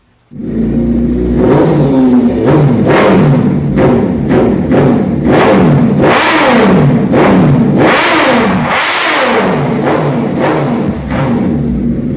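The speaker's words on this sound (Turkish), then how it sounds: "Karşınızda Batman'in motoru mu desek yoksa lastiğin motoru mu var desek bilemedik" A motorcycle engine, one of the new Motobike models, revs hard and close in a rapid series of throttle blips that rise and fall for about twelve seconds. The sound is loud and unbroken, with no talking.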